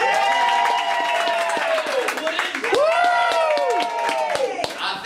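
An audience bursts into applause, a dense patter of clapping mixed with loud whoops and shouting voices, sustained and fairly close throughout.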